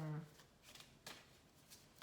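An old family deck of cards being shuffled, with a few soft riffling and sliding bursts spaced apart, faint and close, following a brief voice at the start.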